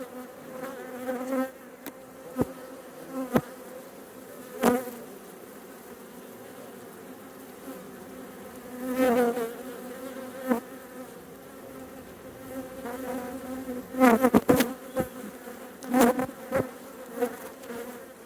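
Honey bees buzz steadily and closely throughout a beehive inspection, a dense, continuous hum broken by a few sharp clicks and knocks as frames are handled.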